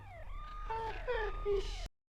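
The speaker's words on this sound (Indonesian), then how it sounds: "suara sirine polisi tadi adalah tipuan dari HP Shiun" A police siren plays from a phone, a short rising and falling electronic wail that sounds close yet thin and cuts off abruptly, with faint talk beneath it.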